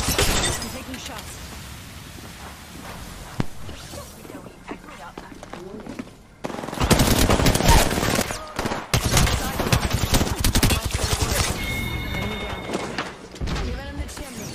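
Automatic R-99 gunfire in the Apex Legends video game, rapid bursts of loud shots erupting midway after quieter game sounds, with gameplay effects around them.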